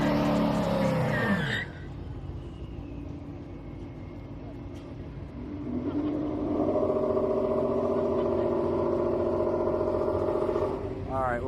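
A Mustang and a Corvette drag race at Houston Raceway Park on a street night. A car engine roars loudly, drops back, then builds into a sustained high-revving run, heard from a distance with a brief voice at the start.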